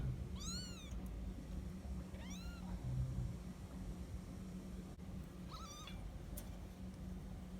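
A mother cat of a litter of kittens about twenty days old meows a few times, thin and somewhat distant, over a steady background hiss and hum.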